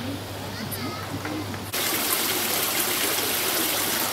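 Water splashes and trickles at a small children's water park at a resort in Kizilot, Turkey, first softly with voices, then jumping to a loud, steady gushing rush.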